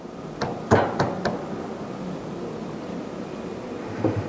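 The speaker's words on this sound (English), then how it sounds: "Gently tap the flange back to the starter and verify that the mounting holes in the flange lines up with the starter" Light metallic taps on a starter flange as it is seated back onto the starter: a quick cluster of four sharp knocks, then one softer tap a few seconds later, close and clear over quiet room noise.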